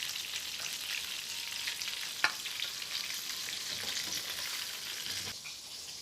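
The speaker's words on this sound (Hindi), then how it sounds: "देखिए फ़िश बहुत अच्छे से फ्राई हो चुकी है।" Boneless fish pakora fry in hot oil with a continuous, even sizzling hiss, close and steady, broken by one brief sharp pop.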